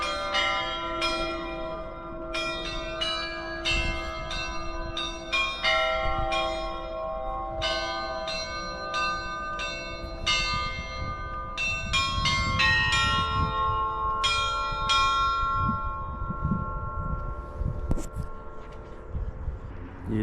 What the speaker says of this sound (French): Ah, on a les cloches.